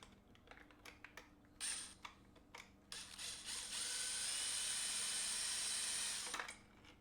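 A power drill removes hex screws on a Traxxas X-Maxx RC truck, whirring in short bursts, then running steadily for a few seconds before stopping, with small mechanical clicks and rattles around it.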